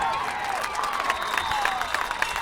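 Homecoming crowd at a varsity high school football game, a steady roar of cheering and applause that holds evenly throughout with occasional louder whoops rising from the mass of voices.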